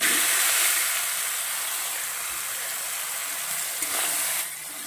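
Taro greens (kochu shak) hitting a hot pan with turmeric, giving a steady broad hiss and sizzle that starts loud and eases slightly, with a small clatter near the end.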